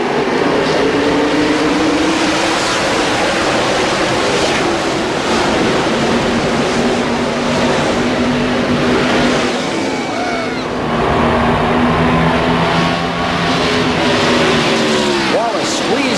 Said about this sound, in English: 200 laps set as the NASCAR Winston Cup Series goes racing at Pocono